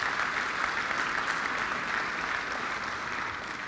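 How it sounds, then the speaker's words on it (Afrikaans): A church congregation applauds at a Mother's Day service, a steady dense wash of clapping that holds evenly throughout and tapers slightly at the end. "kom ons gee lekker hande klap julle"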